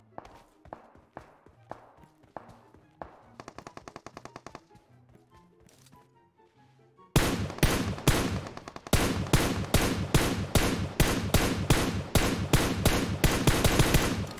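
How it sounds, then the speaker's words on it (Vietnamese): Rapid PUBG Mobile gunfire starts as scattered distant shots and bursts mixed with footsteps, then turns into loud, close, sustained automatic fire in a quick steady rhythm. "À, có tiếng súng này"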